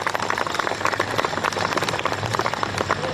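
The audience at a Hindi comic poetry gathering claps together on request, a thick, even patter of many hands that runs steadily at moderate loudness from start to end, with a murmur of crowd beneath.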